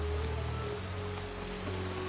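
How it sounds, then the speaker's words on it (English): Cartoon rain falling heavily, a steady broadband wash of drops under a sustained low musical drone, with no talk. "The rain is only getting worse, Apple Bloom."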